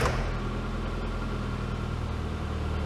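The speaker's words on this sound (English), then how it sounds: "it's an A series and it runs quite nicely" A classic car's A-series engine, in for failed MOT emissions and fully warmed up, idles nearby with a steady low rumble and even running note, no voices present.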